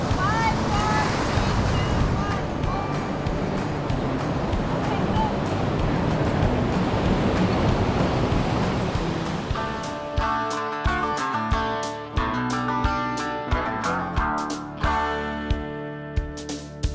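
Steady ocean surf at Steps Beach in Rincon on the western coast of Puerto Rico, a continuous loud wash of waves with wind buffeting the microphone.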